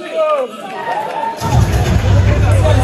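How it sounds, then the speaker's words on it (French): A voice speaks first, then a loud, dense wave of audience applause and cheering swells up and holds steady at the Miss Centrafrique France 2024 pageant event. "On applaudit très fort."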